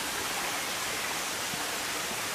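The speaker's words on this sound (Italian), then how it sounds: "ecco qua il ruscello, qui si intravede anche l'acqua, si sente scorrere" A stream flows beside a historic aqueduct trail in Genoa, a steady broadband rush of water, close and even throughout, with no voices.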